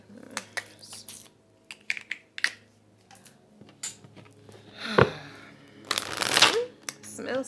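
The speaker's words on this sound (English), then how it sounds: "One more shuffle." Tarot cards being shuffled in a quiet room, a run of soft riffling flutters and papery slaps, with two louder bursts of riffling near the end; someone talks intermittently between the shuffles.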